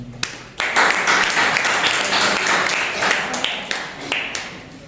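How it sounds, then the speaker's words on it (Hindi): A congregation at a Sunday church service breaks into loud applause, a dense, sustained wash of clapping that swells after a brief pause and then gradually thins out. "उनके लिए जोरदार तालियां हो जाए"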